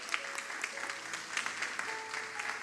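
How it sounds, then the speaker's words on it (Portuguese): A church congregation claps for a member's birthday, soft and somewhat distant applause with scattered claps, while a faint melodic instrument tone sounds underneath. "uma salva de palmas para ele"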